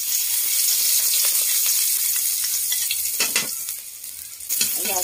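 Minced garlic sizzles and fries steadily in a hot pan, a loud continuous crackle with brief stirring scrapes near the end.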